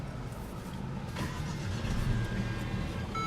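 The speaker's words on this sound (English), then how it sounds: "what you're hearing there is a 2-liter turbocharged 4-cylinder" A 2017 Mercedes-Benz CLA250 with a 2-liter turbocharged four-cylinder engine idles right after a push-button start, giving a steady, fairly quiet mid-range hum inside the car.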